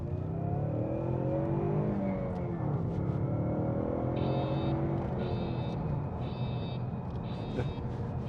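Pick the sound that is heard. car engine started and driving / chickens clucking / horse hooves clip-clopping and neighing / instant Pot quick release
car engine started and driving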